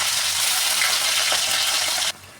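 Chopped onion and garlic sizzle steadily in hot oil for a Maharashtrian methi usal, a loud, dense frying hiss that runs on and then cuts off abruptly near the end.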